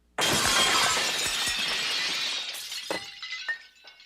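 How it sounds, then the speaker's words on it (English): A gleaming glass mermaid tank smashed in the center with a sledgehammer gives one loud, sudden shattering crash, then a long spray of breaking glass that thins into scattered tinkling fragments settling. "strode up to that gleaming glass mermaid tank with a sledgehammer, reared back, and smashed it right in the center"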